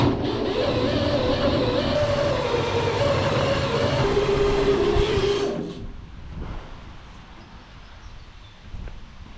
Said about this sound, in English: Yeah, the drill's overheating.